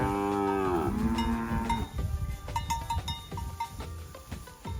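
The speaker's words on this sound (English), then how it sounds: "everywhere you go, you can see plenty of cows" Cattle on an off-grid farm in Chivhu, Zimbabwe, moo loudly at close range, one long descending low call at the start followed by several shorter overlapping moos from the herd, with no talk.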